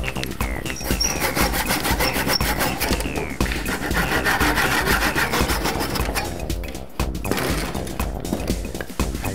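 Hand saw cutting a U-shape out of a small wooden piece, with steady, loud, rapid back-and-forth strokes rasping continuously up close and no talk.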